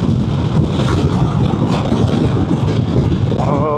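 Strong wind roars steadily and loudly across a microphone while riding a Vespa GTS 300 scooter from Taoyuan to Miaoli, a dense rushing buffet with no break from start to finish.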